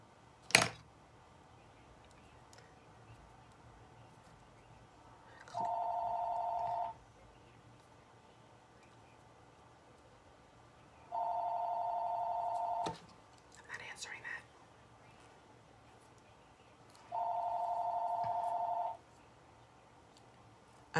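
A landline house phone rings indoors in three separate long electronic bursts, evenly spaced, with soft background noise and faint sounds between rings.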